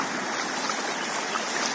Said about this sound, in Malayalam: അവിടുത്തെ തോട് കവിഞ്ഞൊഴുകിയിരിക്കുന്ന കാഴ്ചയാണ് നിങ്ങൾ കാണുന്നത്.